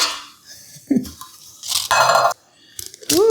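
Metal USA Pan cupcake pans clink and clatter in a kitchen as they are handled, with several short bright knocks and scrapes separated by quiet gaps and a brief voice in between.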